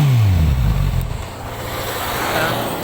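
A Suzuki motorcycle engine, GSX-S1000F, revs in standard throttle mode, a close throaty rev that drops away and settles into a steady rumbling idle.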